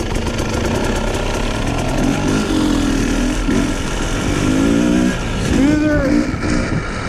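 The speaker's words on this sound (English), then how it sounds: "Right off the bat, it feels smoother. The motor is smoother." An off-road motorcycle engine runs steadily at a road-racing event, its buzzing note rising and falling as the rider works the throttle, loud and close throughout with no talking.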